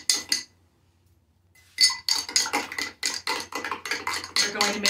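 Paint mixture for bubble art being stirred in a container, giving a rapid run of clinking, scraping taps after a brief pause, fairly close and bright.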